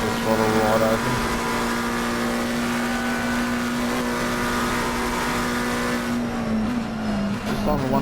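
A race car engine holds wide open throttle at Bathurst in a racing video game, a steady high droning note that dips near the end as the car slows, with a commentator talking over it.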